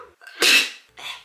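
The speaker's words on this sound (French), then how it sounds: "Je vais éternuer." A single loud sneeze close to the microphone, with a short breathy intake just before it and a softer second puff straight after, all within a second.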